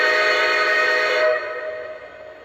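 Second whistle tone from a Lionel Legacy Southern Atlantic #1905 model train: a loud, sustained chord-like steam whistle blast that holds for over a second, then fades to a softer lingering tone.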